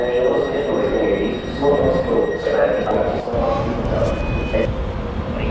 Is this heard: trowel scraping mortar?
no